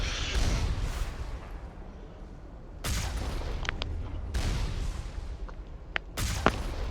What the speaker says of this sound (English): but I just blew up all the cannons